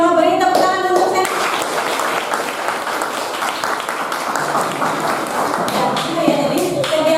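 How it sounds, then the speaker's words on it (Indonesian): Hands clapping in a classroom setting, a steady run of claps lasting several seconds with a few spoken words at the start and end. "Saya mau beri tepuk tangan untuk saya."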